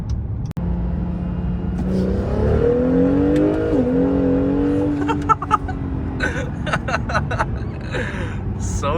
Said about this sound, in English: Hear a little bit of turbo noise, blow off noise.